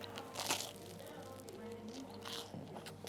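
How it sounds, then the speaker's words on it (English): Close, crunchy bites into crispy, fatty pork in a crispy white bun with carrot and cucumber, at a Launceston, Tasmania eatery; two louder crunch bursts stand out over a steady low background murmur. "that's got a really nice crunch to the pork"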